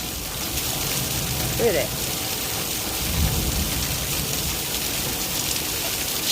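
Heavy thunderstorm downpour pours steadily onto the ground beside a small, nearly full stream, a constant broadband hiss with a low rumble partway through, while someone speaks briefly over it.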